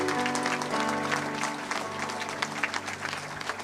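A church congregation applauding Jesus at Nazareth, dense sustained clapping from a large crowd filling the room, loud and continuous with a few voices mixed in.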